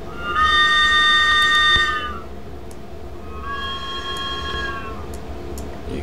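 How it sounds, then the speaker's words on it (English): A London Underground S8 Stock train whistle in Train Simulator 2019 sounds twice, a long loud blast and then a shorter, softer one, over a low rumbling background. "You got your whistle."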